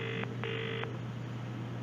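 Two short bursts of a telephone ring tone as a call is transferred, a steady electronic warble repeating once, close and clear over a constant low line hum.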